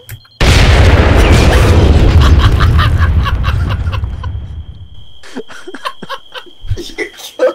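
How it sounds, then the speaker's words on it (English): A huge explosion in the military video game ARMA 3, one loud sudden boom that rolls and fades over several seconds, followed by players talking and laughing afterward. "That was such a large explosion."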